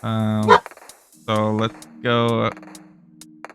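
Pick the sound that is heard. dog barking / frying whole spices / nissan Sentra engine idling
dog barking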